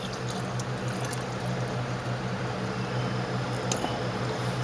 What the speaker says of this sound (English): I love these for pouring acid